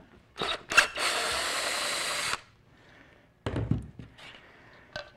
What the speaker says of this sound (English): I want to disassemble it simply by backing out these two screws.